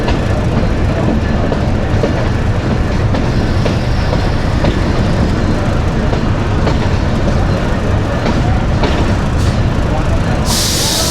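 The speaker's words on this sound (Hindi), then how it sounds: "ट्रेन अप्रोच कर रही है जी पेशावर शहर रेलवे स्टेशन पे" The Khushhal Khan Khatak Express rolls into Peshawar City station with a loud, continuous rumble of wheels and rattling cars, rhythmic clatter and hiss close by, and a brief burst of hissing near the end.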